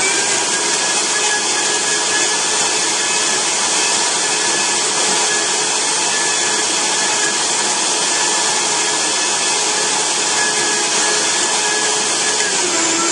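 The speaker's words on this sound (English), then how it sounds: "you can see it's starting to blend in here." A blender whirs continuously through a small batch of raw chocolate candy mix, a loud, steady, high-pitched motor drone close by with no pauses and no talking.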